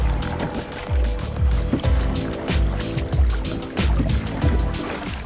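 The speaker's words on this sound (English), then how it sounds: "So now we start paddling" A kayak paddles on the sea at sunrise off Marsaskala, Malta, with repeated rhythmic splashes and strokes at roughly half-second intervals over a steady wash of water and wind, close and fairly loud.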